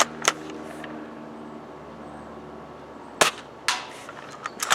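An S&T M1903A3 Springfield airsoft rifle fires .25 gram BBs at targets 100 feet away, one sharp crack early on, another a few seconds later, then softer distant target hits.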